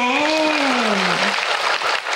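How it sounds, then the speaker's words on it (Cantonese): Crowd applause at a Hong Kong arts showcase, a full and steady roar of clapping with a voice ringing out over it at the opening moment. "俾啲掌聲有"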